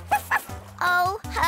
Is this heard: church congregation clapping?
no